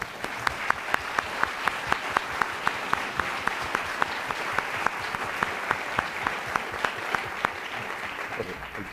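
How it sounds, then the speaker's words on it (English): Sustained applause from an audience, a steady wash of clapping with a few sharper claps standing out, moderately loud throughout. "can we please have a round of applause for our panel?"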